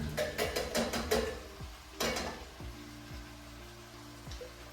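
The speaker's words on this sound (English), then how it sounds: "Our diced tomatoes, I'm gonna put that in there." Canned diced tomatoes tip into a pot of vegan chilli with a wet splatter and stir, followed by a few soft clinks of the can or spoon against the pot under a low kitchen hum.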